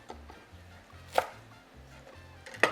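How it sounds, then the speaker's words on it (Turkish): A few sharp knife taps chopping parsley on a cutting board, spaced irregularly, close and clear over a faint low hum. "Şimdi içerisine maydanoz da doğrayacağım."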